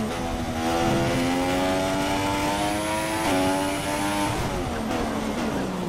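F1 car engine from the F1 2016 video game, racing under throttle with hybrid power to the wheels: a high, buzzing whine climbing through revs, dipping at a gear change, then rising again, loud and continuous.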